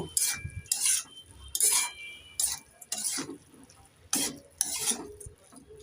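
Betho greens being stirred in a pan after salt and sugar are added, with a utensil scraping and clattering against the metal in irregular bursts over a soft sizzle.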